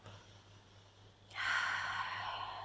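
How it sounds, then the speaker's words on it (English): A big exhale during a breathing exercise at the end of an obliques and total-body workout class, starting faint then swelling into a broad, steady breathy rush that holds for over a second. "big exhale."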